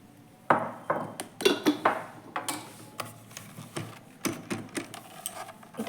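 Cream cake batter with vanilla essence and cardamom powder mixed in a bowl, giving close, irregular clinks and scrapes of utensil against the dish, fairly quiet and without talk.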